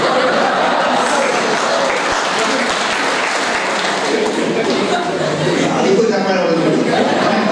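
A large college farewell-party crowd claps loudly and without a break, a dense, sustained wash of hands with chatter and a little laughter mixed in.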